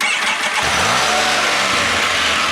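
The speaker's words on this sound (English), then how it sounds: "And all you do is start your Spyder." A Can-Am Spyder three-wheeled motorcycle starting up, a loud, close engine catching and settling into a rough idle, with no talking.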